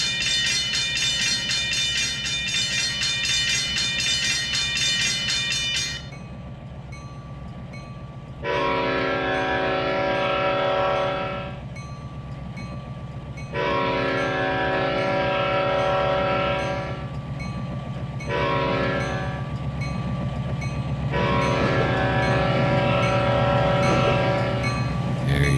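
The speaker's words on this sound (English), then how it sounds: "Ooh, a train's coming." In the Trainz 2022 railroad simulator, a locomotive approaches, its loud multi-tone horn blasting in several long and short bursts over a steady low rumble of rolling wheels and engine.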